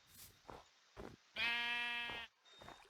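A sheep in Minecraft gives one sustained bleat in the middle, preceded and followed by a few faint short blips, quiet and alone without talk.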